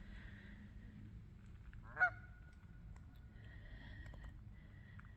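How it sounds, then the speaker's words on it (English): Faint geese honk in the distance at a campground at sunset, with one louder honk standing out near the middle against quiet outdoor ambience. "Had the geese out here talking."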